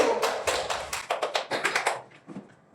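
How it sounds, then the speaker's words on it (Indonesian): Students in a classroom give a short burst of applause for a presenting group, about a dozen close, crisp claps over two seconds before trailing off into quiet. "Tepuk tangan untuk kelompok 1"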